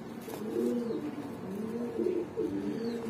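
Pigeons coo repeatedly at a breeding loft holding Jhuma Pankhi, Lal Pawi, Hammer and Super Mili pigeons. The soft, rolling coos run one after another throughout at close range, with no talking.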